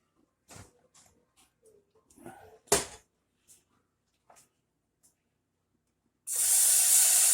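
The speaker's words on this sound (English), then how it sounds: "You're going to hit it with a little bit of oil." Oil hits a hot pan and bursts into a loud, steady sizzle near the end, after several seconds of quiet kitchen clatter and small knocks.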